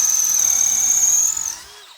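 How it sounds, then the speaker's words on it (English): A power drill whines at a high steady pitch while boring out the broken wooden handle remnant stuck in a splitting maul head, close and loud, then winds down and stops near the end. "I'm going to be drilling out this head that's left in there"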